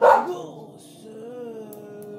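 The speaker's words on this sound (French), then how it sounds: "arrête d'aboyer sur les chats." A single loud dog bark at the start, followed by someone talking over quieter background sounds.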